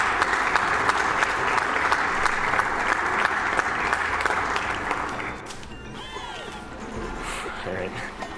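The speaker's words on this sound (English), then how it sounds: "that deserves an applause right there" A crowd at a Summer Games Done Quick speedrun event claps loudly and continuously, the applause holding steady before thinning out toward the end.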